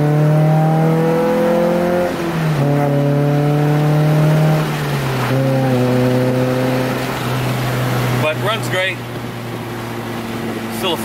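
A Honda Civic engine with a swapped B18 and manual gearbox drones and climbs in pitch through several gear changes, loud and close, with a brief rattle near the end.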